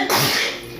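A single sharp, close sneeze bursts out abruptly and fades within a second.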